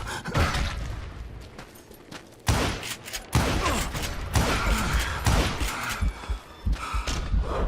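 Double-barrel shotgun blasts in the western shooter game Call of Juarez Gunslinger, loud heavy booms at irregular intervals amid a busy mix of gunfire, thuds and crackling action, with no talk.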